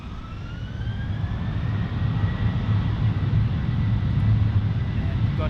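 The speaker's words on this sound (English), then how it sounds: "we've got here the final departure of today's stream. It's the 737-800 Virgin Australia." A Virgin Australia Boeing 737-800 jet departing Melbourne Airport, a loud steady engine roar with a deep rumble and a faint rising whine, heard continuously from nearby.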